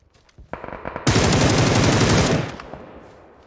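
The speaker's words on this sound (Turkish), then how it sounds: "Bak bu sefer de tepmedi silah." A Beryl assault rifle in PUBG fires a short burst, then a loud, sustained stream of rapid automatic fire for well over a second before trailing off into echo.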